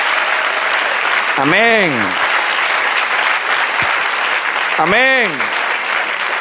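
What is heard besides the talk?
church congregation applause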